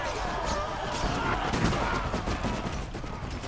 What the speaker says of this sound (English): Where the heck was that shot coming from?